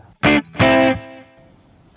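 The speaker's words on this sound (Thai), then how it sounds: "อันนี้ดีเลย์" Two strummed chords ring out on an Enya Sonic JT Jack Thammarat Signature smart guitar with a built-in speaker. A delay effect lets each chord trail off in fading repeats into near silence.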